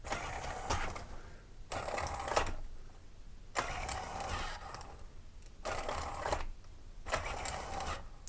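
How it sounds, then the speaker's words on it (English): The electric motor of a linear actuator for a robot build runs at top speed in repeated bursts of whirring buzz, each lasting about a second with short pauses between, close and steady. "So it's a bit jerky when I just turn the motor on and off."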